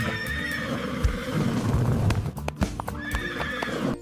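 A horse whinnies with a shrill, wavering call, then snorts amid clopping hooves, and neighs again near the end, close by.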